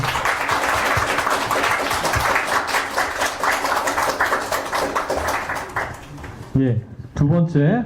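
Seminar audience applauding a presenter in a lecture hall, a dense burst of many hands clapping steadily for several seconds before fading, followed by someone speaking.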